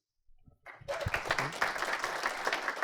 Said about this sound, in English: if you could refrain from clapping in between each candidate